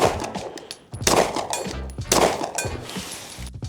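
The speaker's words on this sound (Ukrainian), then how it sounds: "було чутно, де два останні постріли" Two sharp Walther PDP Steel Frame pistol shots crack in close succession at a windy shooting range, each followed by a brief ringing echo, with wind rumble between them.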